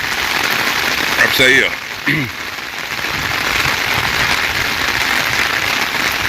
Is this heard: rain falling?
yes